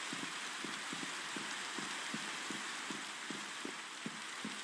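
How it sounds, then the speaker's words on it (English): Rain falls in the Minecraft video game as a dense, even hiss, backed by a soft, regular low thumping that repeats about every third of a second through the whole clip. "In general, Minecraft rain does nothing for me."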